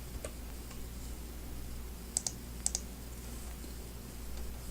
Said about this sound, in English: So let's type the formula in the completeness.